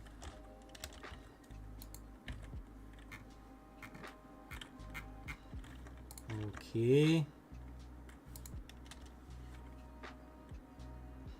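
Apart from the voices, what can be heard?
typing on a computer keyboard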